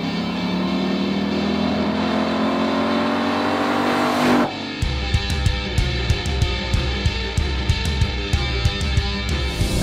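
A car engine revs hard while driving, its pitch climbing steadily through a long pull, then snapping to a shift and settling into a rougher, pulsing note with regular throttle blips.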